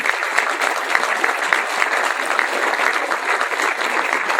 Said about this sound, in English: Would you all please join us in a round of applause for all the candidates?